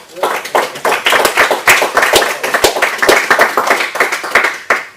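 Audience clapping after a business talk by a solicitor, a modest group of distinct, sharp claps in an uneven rhythm, fairly close.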